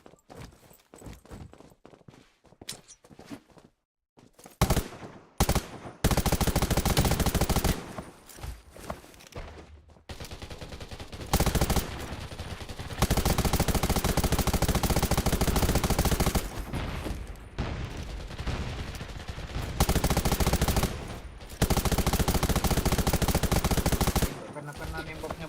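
Gunfire in the video game Undawn, loud dense bursts of automatic fire that come and go across the stretch, with brief quiet gaps and some talk.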